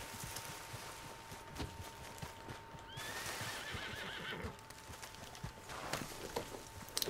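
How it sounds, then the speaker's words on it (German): In Red Dead Redemption 2 Online, a horse gives one clear whinny midway, surrounded by steady trotting hoofbeats and light ambient game sound. "Wo ist denn mein Pferdchen gerast?"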